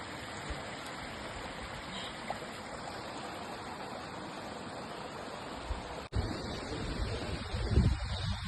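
Dudhsagar waterfall pours with a steady, broadband rushing roar heard from a distance. A brief break near the six-second mark is followed by louder low rumbling that sounds like wind or handling noise.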